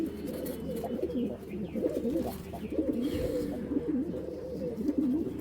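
Several Giribaz pigeons coo in low, warbling, overlapping calls, close by and continuous, with faint background noise.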